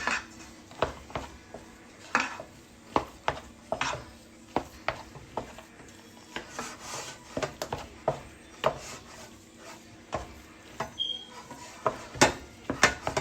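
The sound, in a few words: mixing butter into shepherd's pie ingredients in a pot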